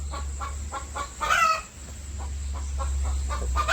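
Several brooding hens in a poultry shed cluck in short repeated bursts over a steady low hum, with one louder squawking call rising midway.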